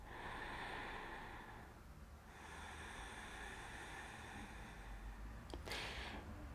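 Slow, deep breaths during a pilates exercise, a long hissing exhale, then a pause and another long breath, faint and close with a brief sniff near the end.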